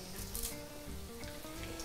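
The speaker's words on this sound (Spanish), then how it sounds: "ahora ya voy friendo aquí con tranquilidad de 8 en 8" Flour-coated meatballs frying in oil, batch by batch, give a soft, continuous sizzle with faint tonal sounds in the background.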